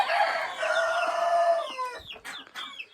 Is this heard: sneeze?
no